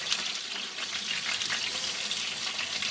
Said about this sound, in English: when you hear the sizzle